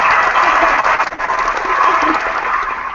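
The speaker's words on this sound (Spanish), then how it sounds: "Aquí no pude aguantar el aplauso." Audience applause at a talk on women and creativity, a dense, steady wash of clapping hands that holds fairly loud for the whole stretch with a brief dip in the middle.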